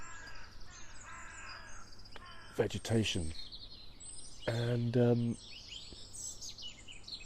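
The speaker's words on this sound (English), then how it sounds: "the birds are just going crazy, and it's echoing around the quarry" Crows caw loudly in two bursts from an old quarry walled in by rock on three sides, with the calls echoing off the stone and fainter bird chirps around them, while someone talks quietly.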